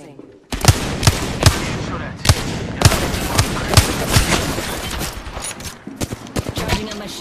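Gunfire in the video game Apex Legends, with sharp, loud shots in an irregular rhythm and a denser burst of fire toward the end, over a busy background where players can be heard talking.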